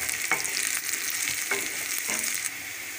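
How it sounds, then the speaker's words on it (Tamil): Onions and broken dried red chillies fry in a pan for palak keerai poriyal, a continuous bright sizzle broken by a few soft stirring scrapes, close and even in level. "வெங்காயம் நல்லா கலர் மாறுற அளவுக்கு வணங்கட்டும்"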